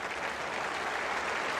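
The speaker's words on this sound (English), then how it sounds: "this good crowd giving Javed Miandad generous applause for this fighting hand" A cricket crowd gives Javed Miandad generous applause, a steady, even wash of clapping from many spectators, sustained and fairly loud throughout.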